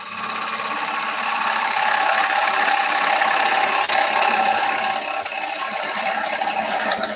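A sycamore bowl spinning on a wood lathe while a fingernail-shaped gouge cuts it, a loud continuous rough hiss and whir of shaving wood with steady motor hum, two brief clicks, no speech.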